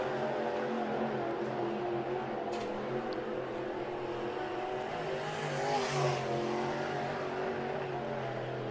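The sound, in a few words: dirt late model race car lapping the track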